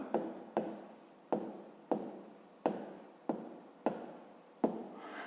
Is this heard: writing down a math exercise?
yes